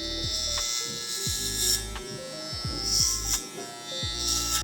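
An electric hair clipper buzzes close up while cutting hair for a low taper fade, the motor hum rising and dipping with repeated upward strokes and flicks.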